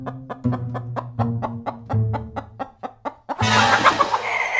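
Chickens cluck in a rapid, evenly paced series of sharp, close calls around a hotel in the Cayman Islands, then a burst of broad, rushing noise takes over near the end.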